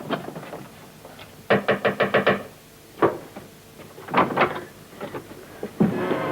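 Knocking on a door comes in quick bursts of several sharp raps, separated by short pauses, loud and close.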